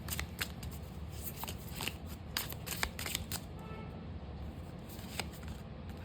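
Tarot cards being shuffled by hand, a soft steady riffling and rustling with quick crisp flicks, close and quiet, with no voices.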